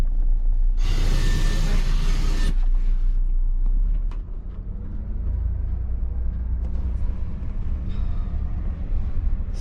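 A Prevost coach bus pulls away on city streets, its engine rising to a loud, broad roar with a burst of air hiss early on, then settling into a steady heavy drone with scattered clunks.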